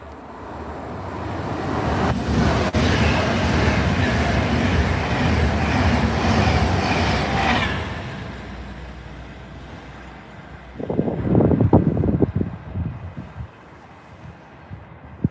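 A Pendolino train rushes through a railway station with a loud, broad roar that holds for several seconds and then cuts off sharply, followed by quieter rumble, clatter and a few knocks as it fades.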